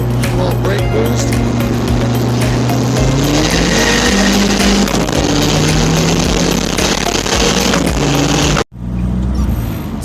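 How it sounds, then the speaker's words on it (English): A turbocharged car's engine drones loud and steady while held on the brake to build boost, a close, sustained roar with slight pitch rises that cuts off abruptly near the end. "what is brake boosting with a turbocharged car and how to do it"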